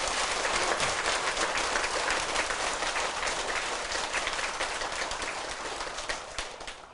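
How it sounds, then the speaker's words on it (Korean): An audience at a Buddhist dharma assembly applauding themselves, a thick, sustained roar of clapping from a large hall that stays strong for several seconds, then thins and tapers near the end. "여러분을 위해서 자신을 박수를 쳐 주십시오"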